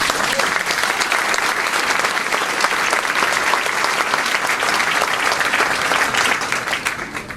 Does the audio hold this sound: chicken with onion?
no